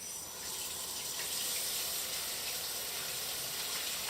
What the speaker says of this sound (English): Go ahead and pour a little more hot water in your sink.